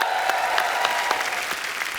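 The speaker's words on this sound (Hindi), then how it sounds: "इनके लिए भी जोरदार तालियां।" The studio audience of The Kapil Sharma Show, a Hindi TV comedy show, claps loudly and continuously, with dense applause filling the whole moment.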